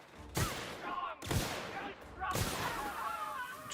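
Gunfire in The Outer Worlds video game: three sharp, loud shots spaced about a second apart, each trailing off into a ringing, echoing tail.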